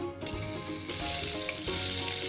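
Chopped onion hits hot olive oil in a pan for Moroccan couscous with meat and vegetables, a steady loud sizzle and crackle that swells further partway through, with faint stirring, heard alone.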